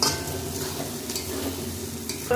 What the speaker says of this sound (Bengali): আলুগুলো আর একটু কষিয়ে নেবো